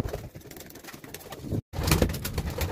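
Homing pigeons coo softly at close range in a loft, with repeated low throaty calls over a quiet background; a brief cut drops out midway, then the cooing returns louder.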